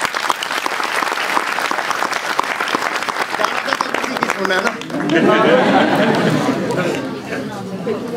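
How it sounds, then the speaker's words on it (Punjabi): Loud applause and cheering from a crowd at a live Punjabi music show at Punjabi University, Patiala, building into a dense, sustained wash of clapping with chatter mixed in throughout. "ਜ਼ੋਰਦਾਰ ਤਾੜੀ ਇੱਕ ਵਾਰੀ ਹੋਰ ਮਾਰ ਦਿਓ"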